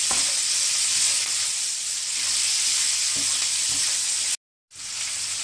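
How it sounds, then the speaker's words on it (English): Onions sizzle steadily in a hot pan, a close, continuous hiss with a few soft stirring bumps and a brief dropout near the end, with no voices. "We will cook these onions until they turn into golden brown color."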